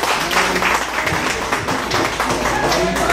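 Audience applause at a Mother's Day tribute event in Chiclayo fills the space as a continuous, dense patter of many hands, with voices chattering underneath throughout.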